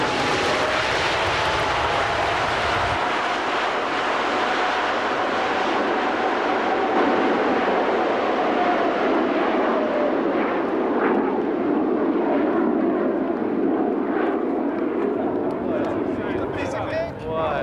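A Boeing 777 jet airliner in flight during test flying, a loud, continuous engine roar and broadband rush with a slowly gliding tone.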